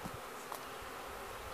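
A steady, continuous buzz of a honeybee swarm fills the air, a dense droning hum with no pauses, moderately quiet and even throughout.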